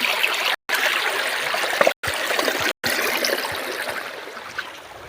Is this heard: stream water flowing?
yes